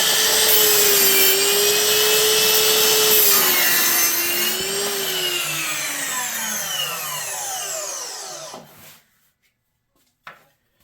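Ryobi 10-inch cordless HP sliding miter saw crosscutting a 1x12 board straight across the grain: a loud motor whine with steady cutting noise for about eight seconds, pitch falling as the blade spins down, then silence and a faint knock.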